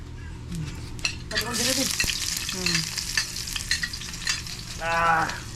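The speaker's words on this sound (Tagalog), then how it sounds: "Gisa Mama Sir, gisa." Ingredients sautéing in a hot pan while cooking sea snails and clams for lunch, a continuous sizzle with stirring scrapes, close by, with voices talking over it.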